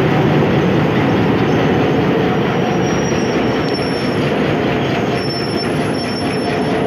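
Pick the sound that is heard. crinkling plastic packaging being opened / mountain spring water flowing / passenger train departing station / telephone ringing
passenger train departing station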